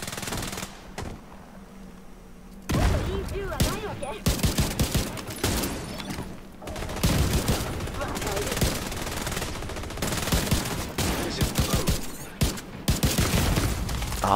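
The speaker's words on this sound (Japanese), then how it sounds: "グレネード。" Gunfire in The Division 2: long bursts of rapid automatic fire and scattered shots, loud and close, starting after a quieter opening, with a grenade thrown amid the firefight.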